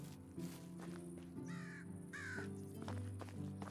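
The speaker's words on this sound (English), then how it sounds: "Well, I can hear an old crow somewhere." A crow caws several times in the game Medieval Dynasty, a few harsh calls at moderate distance over quiet ambient background, with faint footsteps.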